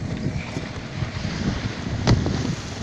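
A Westsail 32 sailboat leaves Turtle Bay under sail, heard as steady wind rushing over the microphone with a low wash of water and one brief gust or bump near the end.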